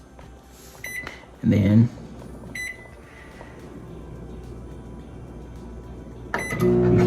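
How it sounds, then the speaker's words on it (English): Timer dial being turned on a Galanz retro microwave oven, a series of close mechanical clicks and ticks with a couple of louder clunks and a beep, while a person talks briefly over it. "one of the ways that you can do the time here is just by simply turning the dial"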